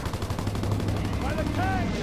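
Rapid gunfire in a Call of Duty: WWII battle, loud bursts of shots with a ringing tail, a voice calling out over the shooting.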